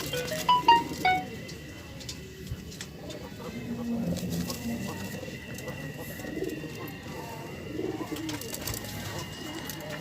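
Pigeons coo softly and repeatedly close by, low throaty murmurs over a faint background of voices.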